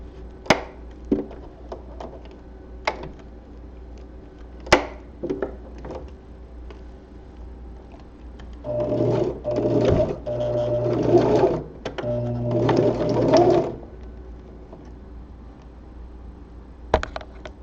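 Sewing machine stitching spandex fabric for gloves: two loud, close bursts of rapid mechanical whirring stitching, each lasting a few seconds, surrounded by scattered clicks and soft handling taps of the fabric.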